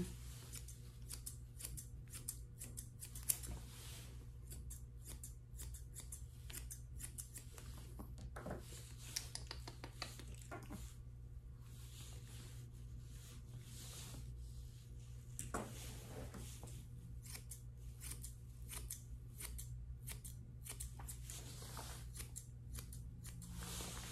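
Thinning shears snip through a Yorkie's coat during grooming, a quiet, close run of rapid little clicks and cuts with short pauses over a faint steady hum.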